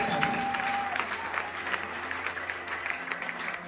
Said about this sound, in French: Si tu crois, tu acclames très fort.